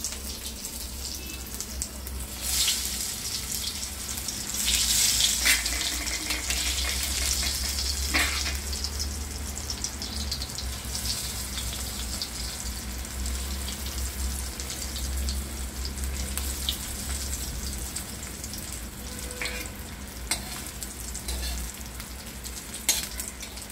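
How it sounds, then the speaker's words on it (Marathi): Slices of eggplant coated in poppy seeds fry in a pan with a steady, close sizzle that swells briefly at times, joined by occasional clinks and scrapes. "आता आपण ह्याला फ्राय करणार आहोत"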